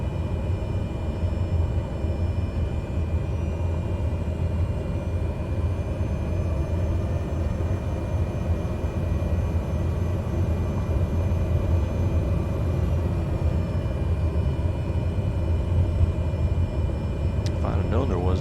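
Cessna Grand Caravan in a flight simulator rolling out along a runway, a steady low engine and propeller drone with rumble holding throughout, loud and continuous, with a brief sharp sound near the end.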